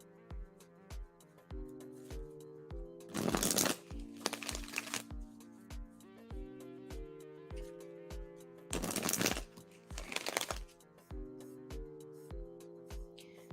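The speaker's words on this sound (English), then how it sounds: "As I shuffle" Tarot cards are shuffled in two bursts of crisp riffling, each lasting about a second, against a steady soft plucked musical backing, close and moderately quiet.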